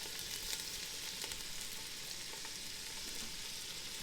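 Chopped vegetables sweating in a pot with salt and pepper for an Alaskan salmon chowder, giving a soft, even, continuous sizzle close by with no talking.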